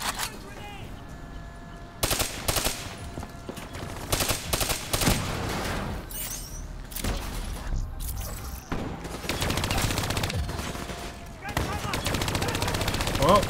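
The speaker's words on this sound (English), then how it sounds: "Are you guys just sitting there while I'm shooting at you guys?" Call of Duty Black Ops 3 gunfire: rapid automatic bursts and single shots crackle repeatedly and loudly across the whole stretch, with occasional brief gaps and some talk mixed in.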